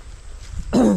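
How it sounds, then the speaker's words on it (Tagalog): A single short, rough cough bursts out near the end after a quiet stretch, close and fairly loud. "Inuubo po ay."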